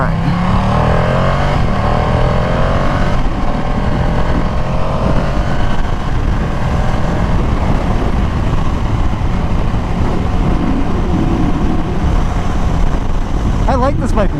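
A Ducati motorcycle engine drones loudly and constantly while the bike is ridden, with wind rush and rising and falling revs, and a rider's voice comes through over the noise.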